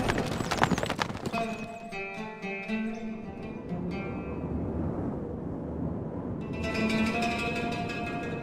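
Rapid horse hoofbeats clip-clop at a gallop under layered Stronghold Crusader game music, with a brief horse whinny; steady and fairly loud throughout.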